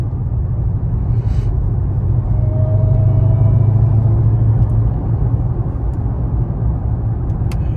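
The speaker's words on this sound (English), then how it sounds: "I gotta have that open up top so I can hear the car" Dodge Hellcat Charger engine, a deep steady low rumble from inside the cabin, loud and continuous with a slight swell midway and no talking.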